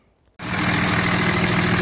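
A 6.7 Cummins diesel pickup truck engine fitted with an S&B cold air intake is heard from the moment it starts, after a brief quiet, then settles into a loud, steady, rumbling idle close by.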